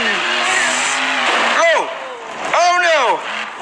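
A video game car engine revs and accelerates in two sharp rising sweeps over a steady motor drone, loud and close, with excited voices talking over it.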